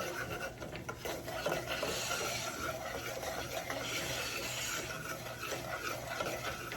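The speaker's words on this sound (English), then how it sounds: "Keep stirring and stirring and stirring." A flour and fat roux stirred continuously in a pan gives a steady, close rasping scrape with a faint sizzle under it, even in level and unbroken, no talking.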